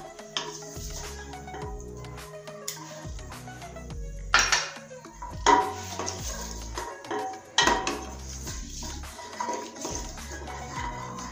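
Whole spices such as cinnamon, cloves and green cardamom frying in a pot while being stirred, with repeated metal spoon scrapes and clinks against the pan over a soft sizzle, close by.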